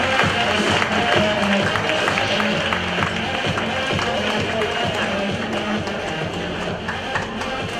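Audience applause at a silver jubilee celebration, a dense, steady wash of clapping that holds loud and even for the whole stretch, with crowd noise mixed in.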